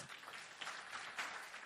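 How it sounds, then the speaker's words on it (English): Faint, distant audience applause at a rule-of-law conference closing ceremony in Hong Kong, honoring the Chief Executive; soft continuous clapping, low in level. "A big round of applause."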